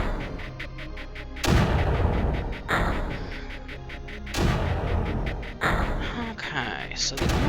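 Mortar fire in the Creeper World game: heavy booming launches spaced a second or two apart, each a loud broad thump decaying quickly, with a faint ticking rhythm and talk between them.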